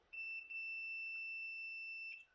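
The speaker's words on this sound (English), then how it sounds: "we should get continuity. A little buzzing sound." A continuity tester buzzes in a single steady electronic tone for about two seconds while an RC car is being repaired, starting and stopping abruptly, clear and alone with no talk.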